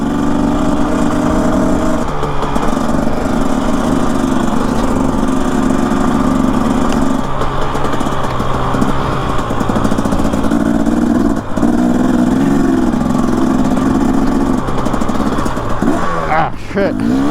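Motorcycle engine droning steadily and loud while riding through dirt yards, with a steady mid-pitched hum, some rising revs near the end, and occasional speech mixed in.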